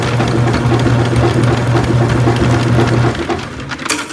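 An Albott 75 ft x 3/8 inch auto-feed electric drain snake runs with a steady, close mechanical whir and buzzing motor tone. It winds down and cuts off after about three seconds, leaving faint handling noise.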